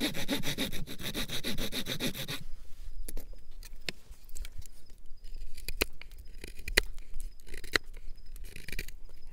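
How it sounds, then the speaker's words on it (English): Rapid back-and-forth hand saw strokes rasp through wood, cutting a notch for a figure-4 deadfall trap, for a couple of seconds, then stop, leaving scattered knocks and scraping handling sounds. "We're gonna just saw it down about 2 inches and start sawing it down straight"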